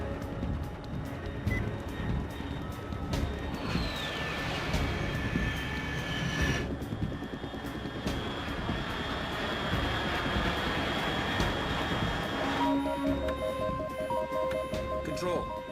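An aircraft flies high overhead in Metal Gear Solid 3, a steady distant drone with a thin whining tone. Voices and game ambience run underneath.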